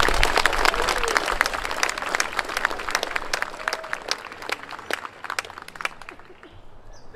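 At a military academy ceremony, an assembled crowd applauds the school staff. Dense, fairly close clapping with distinct individual claps dwindles into scattered claps, and faint crowd murmur sits underneath.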